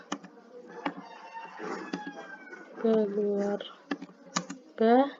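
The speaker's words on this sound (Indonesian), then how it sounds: "Ini kita ketik keluarga" Typing on a computer keyboard in Microsoft Office: a run of irregular, sharp key clicks of varying loudness, with a voice talking between and over them.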